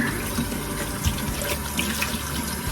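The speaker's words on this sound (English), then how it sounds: "So then I'm gonna rinse my face." Cold water runs steadily from a tap into a sink while someone rinses their face, a close, continuous splashing stream with a few brief spatters and no talking.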